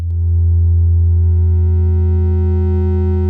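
A dual oscillator on a West Coast modular synth in amplitude modulation, giving a steady, loud, buzzy tone with a fixed bass pitch and stacked overtones that holds unchanged for about three seconds, no voices.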